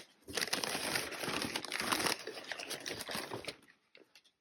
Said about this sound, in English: More filler paper.